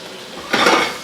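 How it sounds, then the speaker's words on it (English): Brioche French toast is flipped in a buttered pan over moderate heat: a brief, fairly loud clatter of utensil on pan with a soft sizzle, alone and close. "Just going to turn that brioche around."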